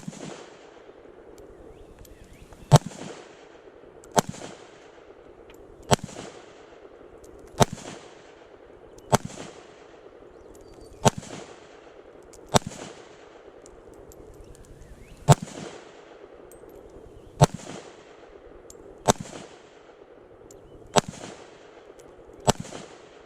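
AK-47 style rifles, a WASR-10 and an AK63DS under-folder, fired at an outdoor range: about fourteen sharp single shots spaced evenly a second or two apart, loud and close with short decays.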